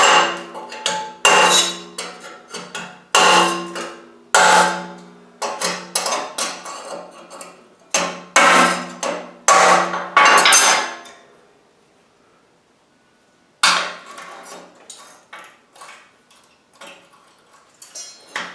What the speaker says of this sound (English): It's a lot easier to knock it off with a chisel